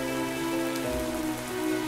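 Steady rain pours down in modded Minecraft (DawnCraft), a continuous close hiss of drops on surfaces with a low rumble swelling briefly partway through, no voices.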